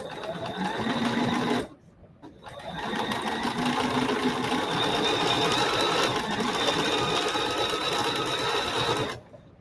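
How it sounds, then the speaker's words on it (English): A sewing machine stitches freezer paper foundation in fast, steady runs, stopping briefly once before humming on again, then halting at the end. "So we go over to the sewing machine."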